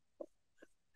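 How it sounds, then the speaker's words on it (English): A dog gives two short, faint yelping barks in the background, about half a second apart, with quiet room tone between them. "we're going to have to wait because my dog's going to bark for a few minutes here"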